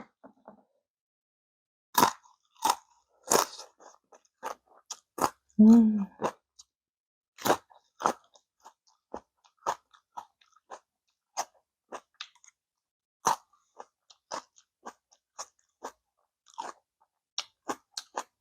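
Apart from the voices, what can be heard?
chewing and eating Korean dumplings (mandu)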